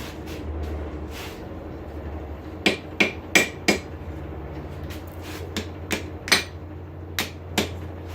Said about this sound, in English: I'm going to try it using the ball peen hammer.